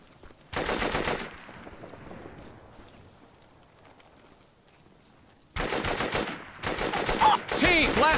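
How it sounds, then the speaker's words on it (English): Loud bursts of automatic gunfire in the video game Operation Flashpoint: one long burst, then near silence, then three more close, sustained bursts. "I'm getting shot up here! Putting down fire!"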